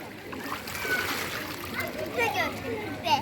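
Water splashes and splatters in a swimming pool as a child plays, with irregular close splashes under a child's and adult's voices talking.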